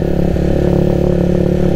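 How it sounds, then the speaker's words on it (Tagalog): Motorcycle engine running steadily close by in traffic, a continuous loud idle-to-mid rumble with a rhythmic pulse and no talking. "Nakakapagod talaga tong motor na to."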